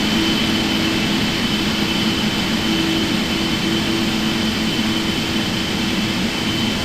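Airliner engines running in a flight simulator game, a constant loud turbine whine and low roar with a steady high tone, unbroken and without voices.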